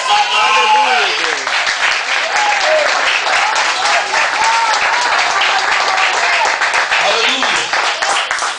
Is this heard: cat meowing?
no